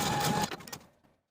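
A sewing machine zigzag stitching back and forth across overlapped elastic ends runs in a steady mechanical whir for about half a second, then slows and winds down to silence.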